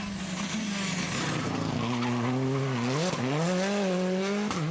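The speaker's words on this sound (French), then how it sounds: "Sur la Hyundai i20, Raphaël Astier lui aussi essaie d'appréhender au mieux sa voiture." Hyundai i20 rally car on a special stage of the Critérium des Cévennes, its engine loud and close with rising revs, quick dips at gear changes, and a steady roar of road and wind noise throughout.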